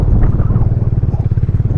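A motorbike turns at night on the beach at Mandermani, its engine a close, loud, throbbing low rumble that pulses steadily throughout.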